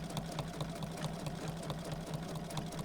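Bernina sewing machine running steadily with a twin needle and walking foot, quilting grid lines on a pillow; a continuous near, even motor hum with a fast regular stitching pulse throughout.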